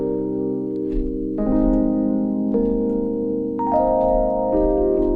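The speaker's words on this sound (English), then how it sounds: "I'm going with this crystal sound, the Mark 1 section, and it sounds like this" Addictive Keys Mark 1 electric piano on a crystal preset, soft sustained chords changing every second or so with a bell-like shimmer, lush and mellow, no voices.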